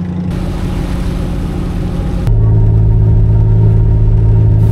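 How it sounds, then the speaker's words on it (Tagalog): The MV Peña Francia ferry's engine rumbles loud and steady as the ship begins to move, shifting partway through to a deeper, fuller drone. "Sa mga oras na to ay unti-unti na nga umaandar ang barko."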